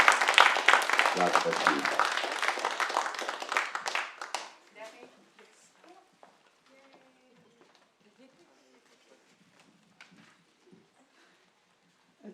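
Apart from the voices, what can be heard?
audience applause for forum panel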